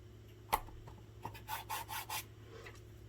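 A tool rubs over vinyl letters to burnish them onto a Valentine stacked box, making several short, close scraping strokes in a quiet room.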